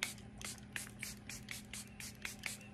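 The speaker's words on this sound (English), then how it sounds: "My setting spray," A Charlotte Tilbury Airbrush Flawless setting spray is pumped about ten times in quick succession, each a short, close, hissing mist burst in an even rhythm.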